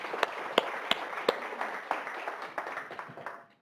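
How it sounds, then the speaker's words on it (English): Sparse, scattered claps from a small audience at a surgery department meeting, a few distinct hand claps standing out over soft background clapping and fading out after a few seconds. "So let's give a round of applause to all those folks."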